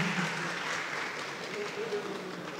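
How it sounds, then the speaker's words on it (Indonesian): An indoor audience at the opening of a green tourism international seminar gives sustained, fairly even applause, with a voice speaking faintly over it. "beri tepuk tangan yang sangat meriah untuk Bapak Abdi"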